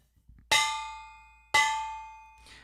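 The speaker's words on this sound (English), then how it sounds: "We've also got one of these Chinese opera gongs, which has a nice sort of pitch bend built into it" A Chinese opera gong with a built-in pitch bend is struck twice, about a second apart, each hit ringing brightly and decaying with a shimmering sustain, with a fainter third touch near the end and no voices.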